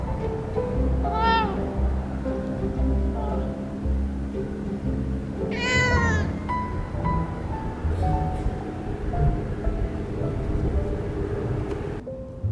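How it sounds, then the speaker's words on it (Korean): Small cats at a quiet seaside campsite meow several times, two clear drawn-out cries standing out near the microphone over a steady low background hum, with no one talking. "여기는 고양이가 굉장히 많아."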